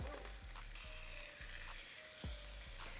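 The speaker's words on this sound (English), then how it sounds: "It is time for me to flip over my salmon." Salmon fillets sizzle steadily in a hot pan for a creamy Tuscan salmon pasta, with several soft scraping and tapping knocks as the fish is turned over, close and continuous.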